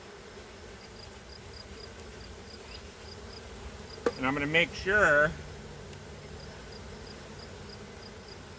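Honey bees buzz steadily around frames during a hive inspection and split, a low continuous drone with a person talking close by partway through.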